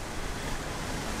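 Water laps and washes at the waterfront in Casco Viejo, Panama, a steady broadband rush mixed with wind buffeting the microphone, continuous and fairly loud.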